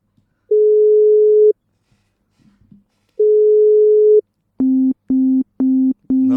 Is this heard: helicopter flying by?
no